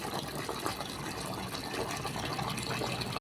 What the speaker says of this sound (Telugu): పెరుగులోకి ట్యాప్ ఓపెన్ చేసి పెరుగులోకి నీళ్ళు నింపేస్తున్నాం